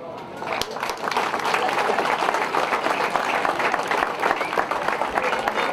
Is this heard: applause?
yes